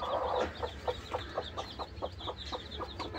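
A mother hen clucks beside her newly hatched chicks from a clutch of fourteen eggs. Her soft calls come in a steady run, evenly spaced and close, with faint higher peeps over them and no talking.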